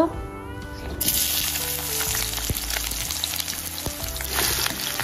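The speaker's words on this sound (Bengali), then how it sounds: "ভালো করে নাড়িয়ে লাল করে ভেজে নেব।" Chopped onion frying in hot oil in a pan (kadai) for a fish-head curve, a steady loud sizzle with stirring scrapes throughout.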